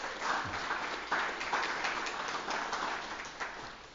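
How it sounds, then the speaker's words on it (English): A round of applause from a conference audience for the Menominee Nation and Stockbridge community, steady soft clapping heard from some distance that keeps going throughout. "Can we just give them a round of applause?"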